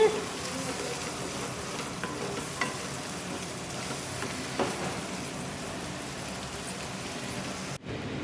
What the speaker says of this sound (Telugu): ఇలా వేసుకున్నాక గంటెతో తిప్పుకుంటూ చక్కగా ఫ్రై చేసుకోవాలి.